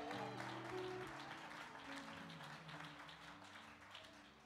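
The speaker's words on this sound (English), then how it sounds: "Can y'all clap for that while I'm talking?" Church congregation clapping during a prophet's sermon, a steady dense patter of many hands filling the room, with faint voices and a sustained musical tone underneath.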